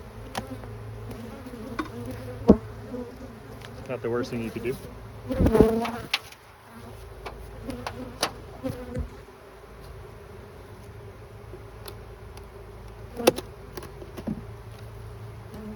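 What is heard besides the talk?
honeybees buzzing in the air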